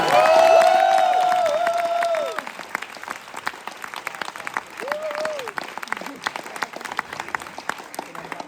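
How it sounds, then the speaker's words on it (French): An audience applauds the Delicity team at a festival gathering. Clapping begins under a speaking voice, then continues as scattered, moderately loud claps, with another brief voice partway through. "j'aimerais qu'on les applaudisse"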